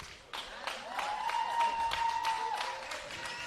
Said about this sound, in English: that's a round of applause for the double goal scorer, Isaac Paul.